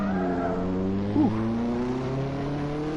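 A race car in the video game Assetto Corsa drones loudly at high revs, with a short tire squeal as it slides through a corner before accelerating again, no talk.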